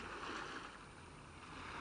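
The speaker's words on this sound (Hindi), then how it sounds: "तट से टकराती लहरों को सुनिए" Ocean waves wash steadily against a shore, a continuous broadband surging hiss with gentle swells and no voices.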